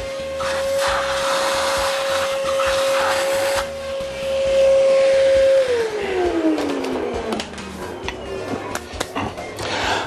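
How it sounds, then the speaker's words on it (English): Ordinary vacuum cleaner sucking dust out of a drilled bowling ball hole, a loud steady motor whine that drops in pitch as it winds down, followed by scattered clicks and handling noises. "For this we use the normal vacuum cleaner."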